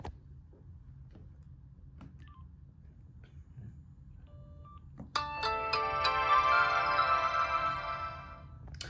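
An LG Chocolate 2 cell phone on Verizon rings with a loud, bright melodic ringtone that starts suddenly partway through and plays on steadily over a faint background hum.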